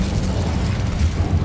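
An Incendio fire spell cast in Hogwarts Legacy, a loud, rumbling burst of flame with crackling, popping bursts that hold steady for a moment, close and alone.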